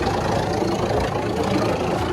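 A large wood chipper driven by a 300-horsepower engine runs steadily, a loud, dense, continuous roar and rumble that fills the whole short stretch without letting up.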